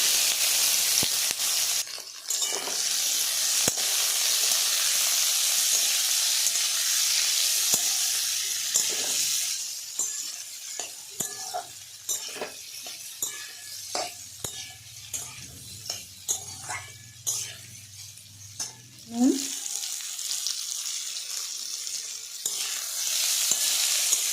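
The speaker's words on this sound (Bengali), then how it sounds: "কড়াতে নিয়ে নিয়েছি সর্ষের তেল এবার আমি আমলকিগুলো দিয়ে দেবো" Amla, Indian gooseberries, fry in mustard oil in a kadai with a loud, continuous hissing sizzle. Scattered spoon clicks and stirring scrapes run through the middle of the frying, with no speech.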